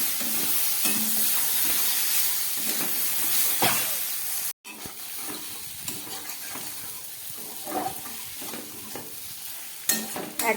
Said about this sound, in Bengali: গ্যাসটা একদম কম করে খুব ভালো করে মশলাটাকে কষিয়ে নিচ্ছি